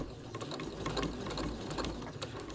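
A sewing machine stitches a small quilted coffin-shaped keychain, its needle mechanism whirring and clicking in a quick, even mechanical rhythm, close and moderately quiet, with no talking.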